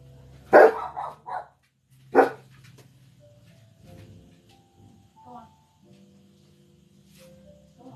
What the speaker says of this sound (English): They thought they heard something outside and they want to bark